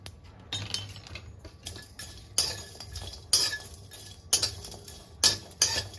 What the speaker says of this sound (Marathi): इथे आता मायपत्री आहे ती भाजून घेऊ आपण